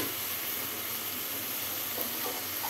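Ginger sizzling in oil in a frying pan while a bean curry is being cooked, giving a steady, even frying hiss that is moderately close and runs unbroken, with no voices.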